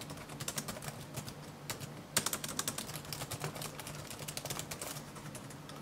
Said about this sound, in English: Yes, the keys are plasticky and way noisier than I'm used to